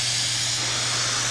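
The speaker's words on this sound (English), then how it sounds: "shot a little acetone through the gun just to make sure that it's working, and it's working" Fuji Q5 paint spray gun spraying acetone before painting motorcycle engine parts, a steady close airy hiss throughout with a low hum underneath.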